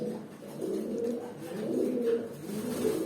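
A pair of Jhak breed pigeons, a male and a female, cooing in low, rolling, throaty phrases that swell and fade continuously, close by and alone without any talk.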